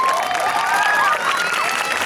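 Crowd applause follows a quadrilha festival dance performance, a short dense burst of clapping with voices and cheering mixed in.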